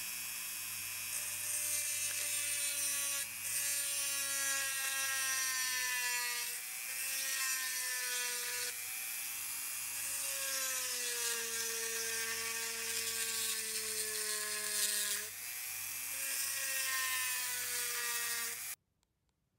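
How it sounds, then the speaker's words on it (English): A Dremel rotary tool fitted with a diamond point tip cuts contours into a Lamborghini Countach replica body, a high steady whine that dips and rises in pitch as the load changes, close and continuous with brief pauses, then stops. "These diamond point tips for a Dremel or rotary tool, these are excellent for dealing with metal or masonry or concrete"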